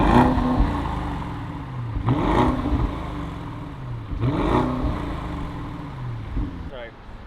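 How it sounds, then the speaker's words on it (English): A 2022 Audi SQ7 with a resonator-deleted exhaust revs up close in two loud blips that swell and fall back to a rumbling idle. "Let me know what you guys think about those revs"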